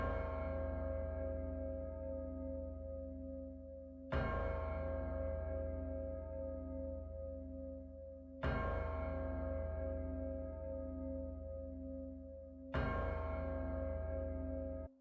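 Chime bell rung in the Where Winds Meet video game, four resonant strikes at roughly four-second intervals, each a loud clang that decays slowly into a sustained, harmonically rich ring, with no talking.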